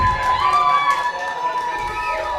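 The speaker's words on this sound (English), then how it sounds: "And the crowd goes wild." Spectators at an evening 8-ball pool match erupt in loud, sustained cheering and shouting, a dense roar with rising yells that holds steady throughout.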